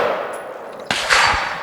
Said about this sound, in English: That was a heck of a thud.